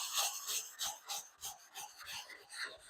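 A hand sanding block rubs over the bodywork of a 1970 Dodge Challenger in quick, rhythmic circular strokes, a steady close hiss of abrasive on panel with no voices.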